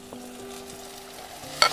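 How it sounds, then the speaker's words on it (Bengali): Soaked Gobindobhog rice being stir-fried with spices in a pan, a soft sizzle with scraping stirs, ending in a brief louder burst of frying. "এবার মশলার সঙ্গে ভালো করে চালটাকেও ভেজে নেব।"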